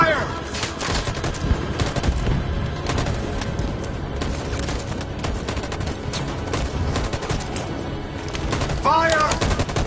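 A firing squad's volley rings out in Detroit: Become Human, rapid, crackling gunshots clattering in dense bursts throughout, with brief lulls and a loud close-range burst near the end.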